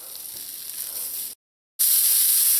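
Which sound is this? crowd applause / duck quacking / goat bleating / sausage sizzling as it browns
sausage sizzling as it browns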